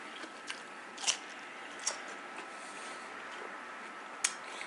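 Teeth bite into a crunchy homemade fermented dill pickle at room temperature, giving a few sharp, close crunches spread out over several seconds against a quiet background.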